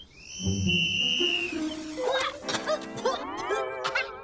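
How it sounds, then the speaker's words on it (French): A high, sustained whistle tone sounds near the start and slowly fades, followed by clattering noises and a few sharp voice-like yelps. "Et le premier sifflet de l'agent Bunker"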